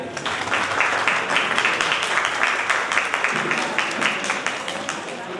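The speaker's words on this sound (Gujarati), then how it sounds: "દાદાને યાદ કરીને એક વખત દિલથી આપણે બધા તાળીઓ પાડી લઈએ" An audience claps together in honour of a grandfather at a family sangeet gathering, a dense, steady wash of applause throughout.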